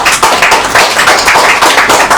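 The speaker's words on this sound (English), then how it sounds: "Clap for yourself." A live audience claps together, steady and dense applause with uneven rhythmic swells, close and loud, with no voices over it.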